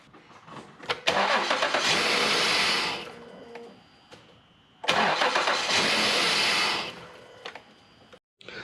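Two separate starts of a 2008 Lincoln MKS / Ford Edge engine after valve cover gasket work, each a loud cranking burst that catches and roars for about two seconds before settling to a quieter idle, heard close up with no talking.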